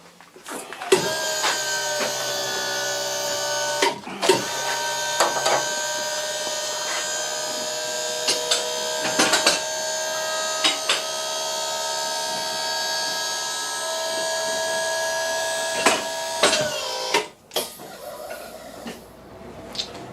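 A hydraulic lift raises a Porsche 911 996 C4S, its motor giving a steady whining hum for about seventeen seconds, broken by a few sharp clunks before it stops.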